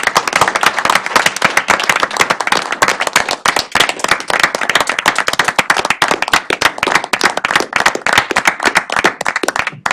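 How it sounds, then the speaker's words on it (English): A crowd at a board of trustees meeting applauds steadily, dense clapping that keeps up at full strength from start to finish. "If we could all just give them one more round of applause, that'd be awesome"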